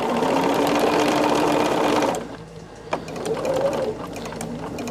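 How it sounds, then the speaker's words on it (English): A sewing machine stitching a quilt whirs steadily close by for about two seconds, then stops, leaving a quiet room with a single soft knock and faint murmuring. "we are now going to turn and sew off at the diagonal"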